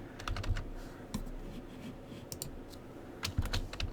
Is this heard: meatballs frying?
no